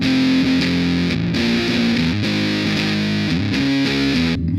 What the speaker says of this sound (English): to me it sounds like a very heavy distortion, not quite a fuzz